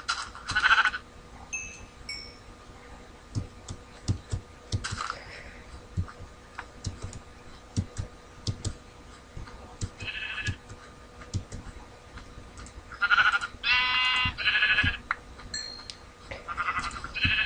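Minecraft sheep bleat in short nasal bursts near the start and again toward the end, separated by scattered keyboard clicks and faint game ambience, with no talking.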